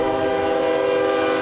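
A train passes a night-time road crossing at Liberty, Maine, its loud, steady rumble layered with sustained horn-like tones that hold unbroken for the whole moment.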